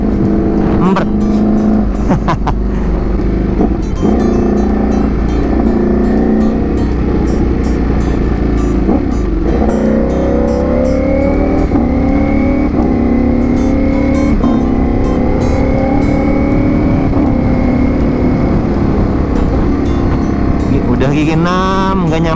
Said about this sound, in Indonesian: Ducati ini guys ya, aku suka itu ngegeber itu kayak Harley Davidson gitu loh.